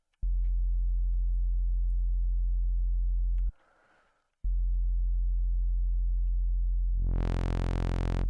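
A synthesized sine wave tone with an extra harmonic, played in Bitwig, holds steady and buzzy, cuts out briefly to a soft hiss, then returns and sweeps upward in pitch at the end.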